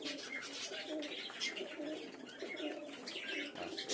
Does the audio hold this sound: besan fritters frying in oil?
no